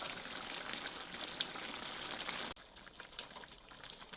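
Jamaican brown stew pork simmers on a low flame in a pot, giving a steady close bubbling and sizzling hiss that drops slightly softer partway through.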